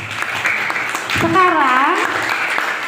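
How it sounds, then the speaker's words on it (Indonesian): Elementary schoolchildren at a Maulid Nabi celebration at a primary school in Mataram clap their hands together, a steady crowd patter running under a voice speaking over it. "Sekarang tepuk tangan buat kita semua."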